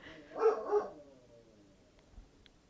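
A pet dog gives two quick muffled barks at moderate distance after knocking on wood, followed by faint thumps in an otherwise quiet room.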